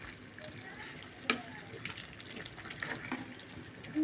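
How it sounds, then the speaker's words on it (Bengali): Chicken curry is stirred in a pan with its own released juices, a soft wet sizzling and scraping texture with a few faint clinks, heard steadily at close range. "আমরা এখন নেড়ে দিব একটু।"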